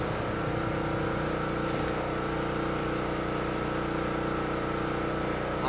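An old tractor engine runs with the choke on, giving a steady, close, unbroken low rumble with a constant drone and no pauses.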